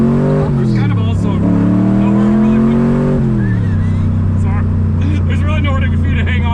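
A Ford GT40's engine drones and revs while driving, its pitch climbing then dropping as gears shift, loud and close from inside the cabin with constant road rumble.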